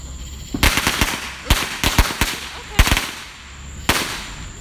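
Fourth of July fireworks go off nearby in a rapid string of sharp cracking bangs, some clustered in quick bursts, with faint background noise between them.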